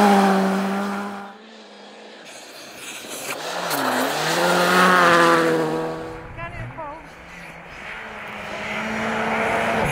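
A Skoda Fabia rally car races along a snowy stage, its engine rising and falling through gear changes as it passes close by, loud and continuous, with a voice speaking over part of it.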